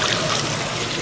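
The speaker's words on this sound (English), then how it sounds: "the MCC operator now pours it into the cooling tank" Milk at a Nigerian dairy collection centre is poured into a cooling tank, making a steady, loud, broad rushing splash that runs without a break.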